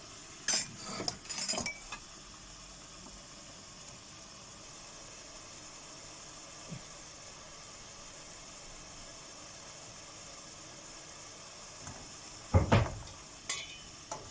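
Eggplant filling being sautéed in a pan for Turkish karnıyarık: a low steady sizzle runs throughout, with a few clattering stirs of the spoon at the start and again near the end.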